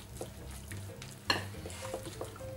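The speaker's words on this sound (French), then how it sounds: "on va mélanger un peu de béchamel avec les épinards" A spoon stirs béchamel sauce through spinach in a bowl, giving soft wet squelching and scraping, with one sharper clink of the utensil against the bowl near the middle.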